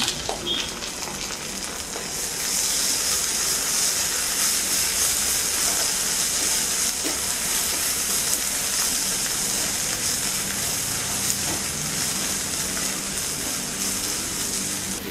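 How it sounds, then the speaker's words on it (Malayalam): Onions sauté in a hot pan for a jackfruit curry, giving a steady, close sizzling hiss that rises after a quieter start and carries on evenly with faint stirring, no talking. "സവാള ഒന്ന് വഴട്ടെ."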